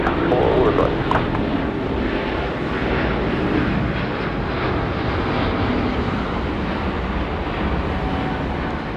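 An airliner takes off from runway 34 at Sydney Airport, a broad jet engine roar that stays loud and steady throughout, with voices talking over it.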